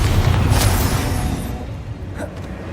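A Bombarda spell explosion in the video game Hogwarts Legacy, a loud booming blast that rumbles and slowly fades, with a couple of smaller pops afterward.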